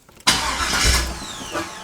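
An LS-swapped V8 car engine fires up abruptly after a brief crank, settling into a loud, close rumbling idle with no talking.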